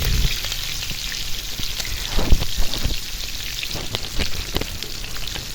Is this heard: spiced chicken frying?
yes